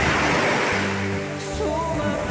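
Small calm waves wash steadily onto Senggigi Beach in West Lombok, a continuous close surf hiss with low tonal hum over it and no clear breaks.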